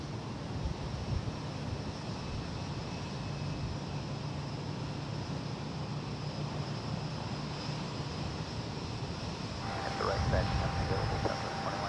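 A Southwest airliner on final approach to land at San Jose airport, heard as a continuous broad roar of engine and wind noise that swells slightly toward the end, with radio voices over it.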